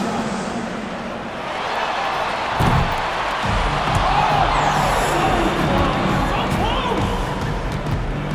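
A video game basketball crowd in NBA 2K25 roars and applauds continuously in a big echoing arena, a dense wash of cheering that swells slightly midway.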